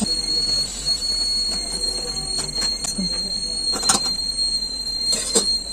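Pressure cooker whistling while steaming idlis in a home kitchen, a sustained high steady whistle running throughout, with scattered clatter and short sharp bursts over it and a faint voice in the background.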